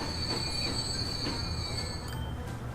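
A locomotive runs on rails in the video game Transport Fever, with a steady rumble, sustained high metallic wheel squeal and faint clicking of wheels over the track.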